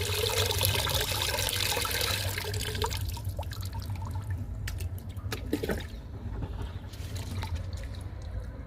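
Liquid fertilizer for aloe vera plants is poured and mixed into about eight litres of water in a ten-litre bucket, giving a steady close splashing and trickling that gradually settles into quieter drips.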